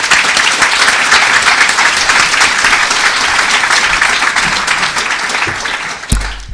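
A lecture audience at the Architectural Association applauds to welcome architect Patrick Schumacher, with loud, dense, steady clapping that holds for several seconds before a thump near the end.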